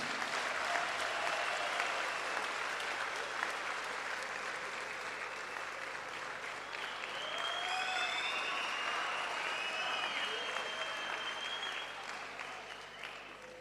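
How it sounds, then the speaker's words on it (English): Sustained applause from a large audience at a Umkhonto weSizwe Party gala dinner, a dense steady patter of clapping that carries on without letup, with faint whistles and voices mixed in. "give a round of applause to President Zuma for having founded Umkhonto weSizwe Party"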